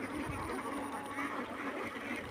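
Ducks on a duck farm of about 1300 birds, their faint, distant quacking mixed into a low outdoor murmur for a couple of seconds.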